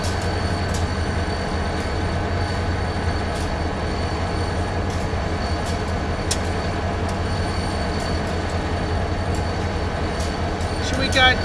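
An Amtrak passenger train, train 147 bound for Lynchburg, rolls past with steady loud wheel rumble and clatter, occasional squeals and clicks over the rails, continuous throughout.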